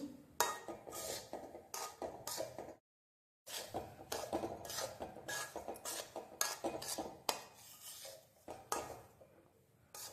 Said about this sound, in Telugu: కింద మాడిపోకుండా కింద నుంచి మొత్తం అంతా కలుపుకుంటూ ఎక్కడ మాడకుండా బాగా కలుపుకోవాలి